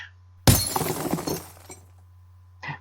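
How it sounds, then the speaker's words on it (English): A tall floor lamp topples over with a sudden loud crash and a shatter of breaking glass, a storybook sound effect in Corduroy, the clatter fading over about a second above a low steady hum. "Into a tall floor lamp. Over it fell with a crash."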